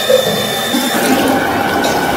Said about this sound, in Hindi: यहाँ पे आप देख सकते हैं पानी यहाँ से इस पाइप में फ्लो के आ रहा है